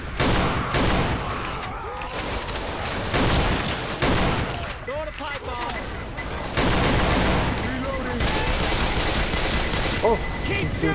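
Dense gunfire from Left 4 Dead 2 survivors shooting at a Tank at the Burger Tank survival map, a steady loud barrage of overlapping shots throughout, with voices talking over it.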